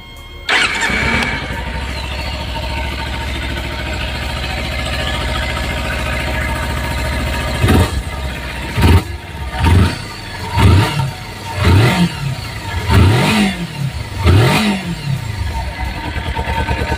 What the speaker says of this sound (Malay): Kau nak dengar kan bunyi engine dia macam mana?